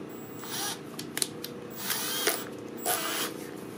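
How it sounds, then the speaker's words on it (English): A power drill spins screws held in its chuck for polishing, a faint whirring that rises in short bursts with small metallic clicks, heard close and quiet. "Just going to put them in my drill."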